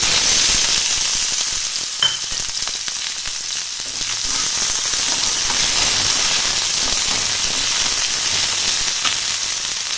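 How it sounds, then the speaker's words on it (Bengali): Steady hot-oil sizzling of chopped onion frying, with a faint clink near the start and light stirring noises, no talking. "এটা একটু হালকা করে ভাজবো"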